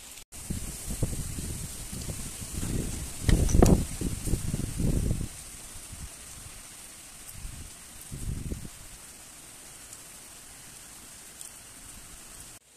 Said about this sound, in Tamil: அழகு நல்ல மழை பெய்யுது